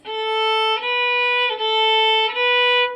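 A bowed string instrument plays sustained notes stepping upward by whole steps, four even tones in a row, clear and alone.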